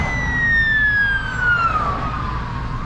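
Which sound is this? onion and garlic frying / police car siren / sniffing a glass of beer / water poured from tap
police car siren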